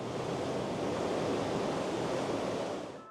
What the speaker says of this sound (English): here we go, here's the ocean.